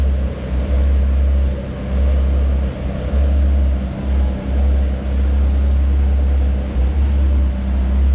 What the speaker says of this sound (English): So we're going to put the top down.